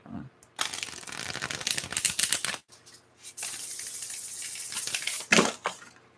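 Tarot cards are shuffled by hand in rapid riffling bursts, a crisp papery flutter lasting a couple of seconds, then a brief pause before a longer, hissing shuffle and a final snap.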